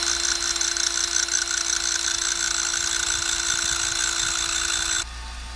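A running electric drill turns a screw against a grinding wheel to sharpen its point: a steady, loud mechanical whir that cuts off abruptly near the end, with no talk.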